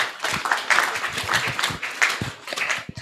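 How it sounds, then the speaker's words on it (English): Audience applause at a credit union annual general meeting, a steady patter of many hands clapping for a few seconds with some scattered voices mixed in, moderately loud throughout. "Please give me a round of applause."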